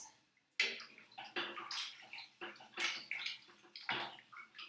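Flour-thickened milk sauce for a salmon pasta bake sloshing and slopping in a pan as it is stirred, a run of wet, irregular splashy swirls close by with no talk.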